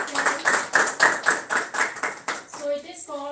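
Students in a live offline class clap together in a quick, steady rhythm for about two and a half seconds, then the clapping stops and a voice begins talking.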